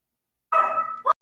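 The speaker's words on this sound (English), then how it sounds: "you can hear that other dog" A dog barks once in a short indoor burst, followed by a brief second yip, with no talk over it.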